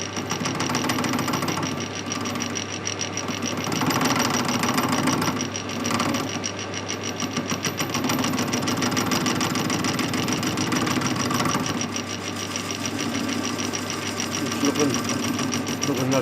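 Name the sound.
machining welded metal drive dog part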